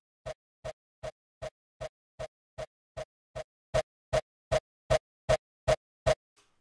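A stretched kick drum punch layer stripped of all effects repeats as about sixteen evenly spaced dry thumps with a resonant, slightly echoey tone, and the last several hits sound louder than the first ones.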